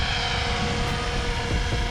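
SAB Raw 700 RC helicopter in flight, a loud continuous whine and rotor drone holding steady throughout with no talking.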